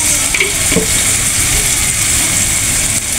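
Water lily stems frying with dried fish, chili powder and spices in a pan, a steady close sizzle with a brief stirring scrape near the start and no talking.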